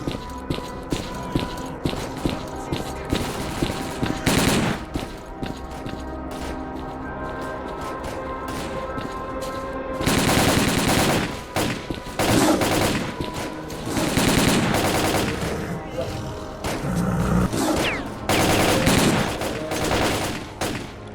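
Heavy, continuous automatic gunfire in Stalker: Call of Pripyat, close and loud throughout, with dense overlapping bursts that intensify in the second half and occasional footsteps mixed in.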